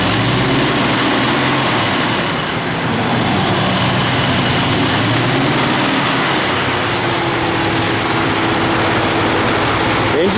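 The engine of a 1966 Mercury Comet Cyclone GT convertible runs loud and close in a continuous, steady drone with a faint higher whine riding on top.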